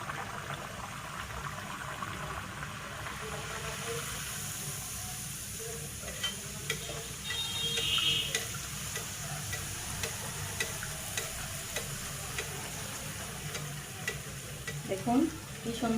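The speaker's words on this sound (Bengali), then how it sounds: "এভাবে একটা একটা করে ভেজে নেবেন।" Luchi, soft puffed flatbread made with red spinach, deep-frying one at a time in hot oil, a steady moderate bubbling sizzle heard close with small crackles and a few louder pops.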